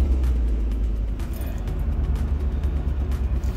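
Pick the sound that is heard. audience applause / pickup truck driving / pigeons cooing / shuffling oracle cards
pickup truck driving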